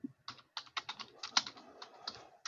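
Keyboard typing, quick irregular taps heard close and fairly quiet, with short pauses between bursts and no talking.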